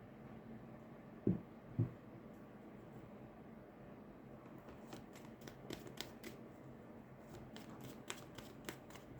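Tarot cards shuffled by hand during a reading, heard as two sharp card snaps early on, then a run of quick, light riffling flicks and taps that come close and alone over a faint steady background hum.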